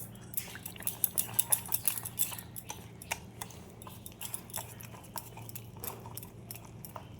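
A spoon scrapes and clinks around a bowl of semolina idli batter mixed with water and curd, with soft irregular taps and scrapes, close up and fairly quiet, no talking.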